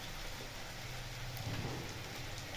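Whole spices, small cardamom pods and black peppercorns, sizzle in hot oil with a dense, even crackle like steady rain, heard alone and close for a couple of seconds.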